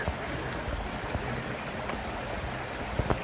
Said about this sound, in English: There's a good amount of water coming through